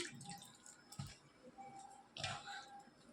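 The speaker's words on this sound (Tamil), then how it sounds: "தண்ணியை தெளிச்சிருக்கிறேன்" Water sprinkled by hand onto snack dough in a home kitchen gives faint, sparse drips and soft wet pats, quiet and close, with no talking.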